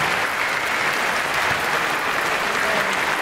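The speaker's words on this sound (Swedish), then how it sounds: "en rungande varm applåd från Eriksdalsbadets publik" Swimming pool audience at Eriksdalsbadet in Stockholm applauding warmly after a women's 50 m butterfly heat, a dense, steady roar of clapping that fills the whole stretch without a break.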